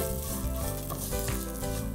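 Sliced almonds frying in a pan for sheer khurma, a dense, steady sizzle with faint stirring scrapes running throughout.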